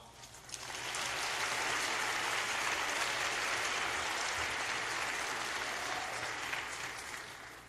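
Warm, sustained applause welcoming speaker Austin Broughton to the stage, a steady wash of many hands clapping that swells in quickly, holds evenly and tapers slightly at the close, with no talk.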